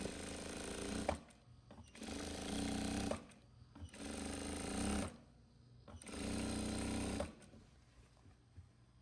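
Machine stitching on a blouse sleeve, hemming along the presser foot: four bursts of steady mechanical whirring, each about a second long, broken by short quiet pauses, loud and close.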